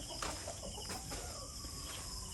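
Chickens clucking in a breeding area on a farm, faint scattered clucks over a low background hiss.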